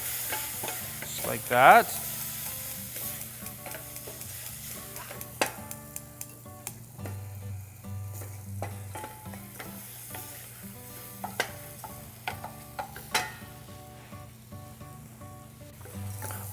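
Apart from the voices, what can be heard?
stirring rice with chanterelles in a pan to coat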